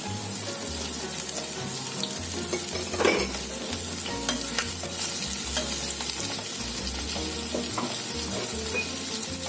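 Chopped onion and tomato frying in a pan, a steady close sizzle with stirring scrapes throughout, no voices over it.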